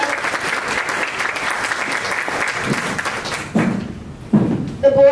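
Audience applause at a school board meeting, sustained, dense clapping from a crowd in a room for several seconds, with a few louder thumps and a brief voice near the end.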